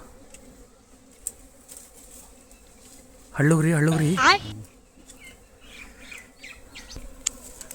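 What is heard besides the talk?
flies buzzing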